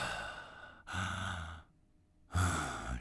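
A voice imitates the laboured breathing of an elderly woman on oxygen: two long, heavy, rasping breaths separated by a short silence, close and loud.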